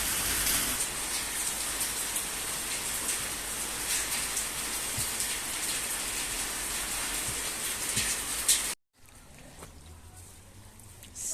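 Steady rain pours down outdoors, a dense continuous hiss of drops on surfaces that runs unbroken for most of the stretch, then cuts abruptly to a quieter, thinner ambience near the end.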